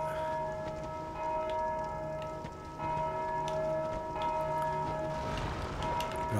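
A bell rings in Dark Souls II: Scholar of the First Sin on Xbox Series X, with sustained resonant tones holding over a continuous rain-like patter and ambient noise, moderately loud and without speech.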